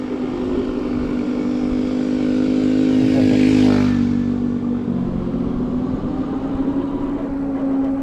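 A combustion-engine motorcycle on a riding path approaches and passes, its engine drone swelling to a peak midway and then fading over steady road and wind noise.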